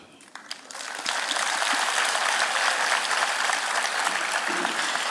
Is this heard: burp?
no